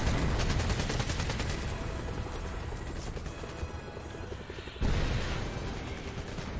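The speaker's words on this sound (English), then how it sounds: "The gun sounds weird when you just quick fire." Rapid gunfire from a firearm quick-firing in the video game 007 Legends, a dense loud burst of shots running continuously with a brief dip before resuming at full volume.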